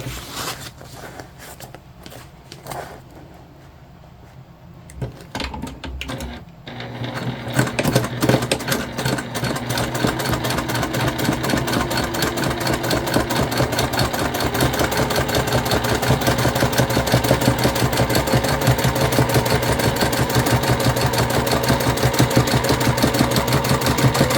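Sewing machine top stitching the middle piece of a convertible Trailblazer bag, a few hesitant starts and handling sounds before settling into a loud, steady, rapid mechanical whir that runs on continuously.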